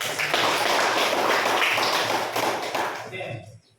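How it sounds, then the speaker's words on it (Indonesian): Classroom applause for students: a dense burst of clapping from a group of people, loud and sustained for about three seconds before tapering off quickly, with a few voices mixed in. "kita kasih aplaus"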